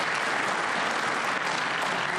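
A crowd at a pool championship match, the 2024 US Open, applauds steadily and loudly, a dense wash of clapping with no break.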